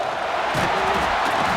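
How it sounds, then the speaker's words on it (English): Stadium crowd roaring in the college football video game CFB 26, Oregon against Minnesota, a dense continuous wall of cheering that swells slightly midway and holds loud throughout. "This crowd ready to make its presence known."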